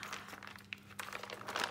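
Paper stickers being peeled and pressed onto the pages of a homemade cookbook in a kitchen, giving soft crinkling and crisp rustles with a few sharper snaps, close and fairly quiet.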